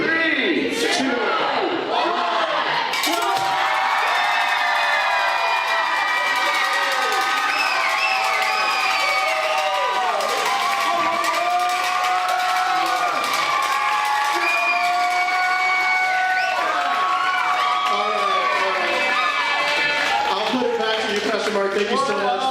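A large crowd of young people at a youth gathering screams and cheers continuously and loudly for over twenty seconds, whoops and shouts piling into a dense, sustained roar with no pauses.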